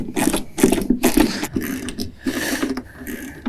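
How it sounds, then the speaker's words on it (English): A ratchet tightening nuts and washers while a John Deere mower weather enclosure is installed, making close, repeated bursts of clicking over about three and a half seconds. "And we'll just go ahead and tighten those down."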